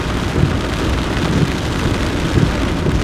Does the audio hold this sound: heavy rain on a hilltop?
yes